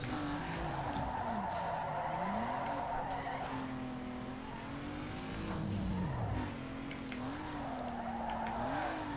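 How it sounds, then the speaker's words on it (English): Tires squeal loudly and continuously as a car drifts in Need for Speed Underground 2, the wavering screech sliding up and down over a steady engine roar. "Good drift. Excellent drift into the barrier."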